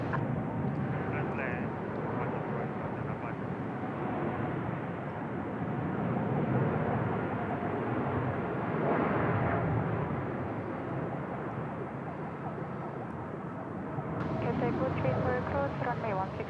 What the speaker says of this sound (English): Should be a nice long takeoff roll.